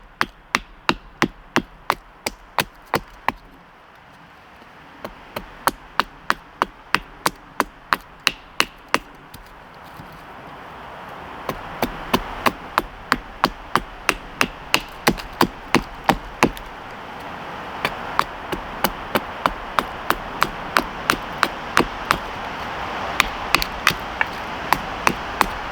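Fiskars Norden N12 splitting axe chopping a shard of firewood to a point: a long series of sharp, close wooden chops, rapid and steady, pausing briefly before resuming at a quicker, slightly quieter pace.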